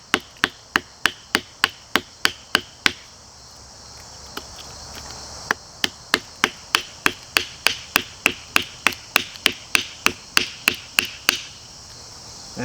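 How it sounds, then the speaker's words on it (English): A Lengren Ice Breaker knife chops a notch into a piece of wood, giving a steady run of about three dozen sharp, close knocks that pause briefly midway and then resume at the same quick pace. "I can chop a notch into this piece of wood."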